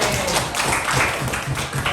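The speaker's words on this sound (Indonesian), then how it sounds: "Oke, tepuk tangan semua" A junior high school PE class applauds a student after a long jump lesson, giving a brief, dense round of clapping that is close and loud, with no voices over it.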